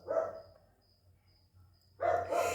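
A small dog on a sidewalk outside barks in two short bursts at the start and end, fairly clear against a quiet background.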